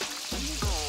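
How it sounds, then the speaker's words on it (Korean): Chicken drumsticks deep-fry in a pot of hot oil, giving a steady, close, dense sizzle and crackle that runs throughout, with no one speaking. "제가 보니까 한 8분 이상 튀겨야 됩니다"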